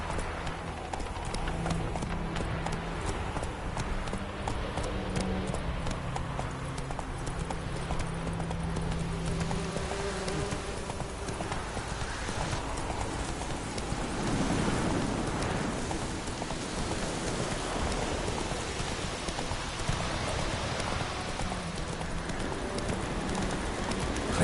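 In The Witcher 3, the horse Roach gallops at a long, steady pace, continuous hoofbeats mixed with a rain-like wash and a dense game soundscape.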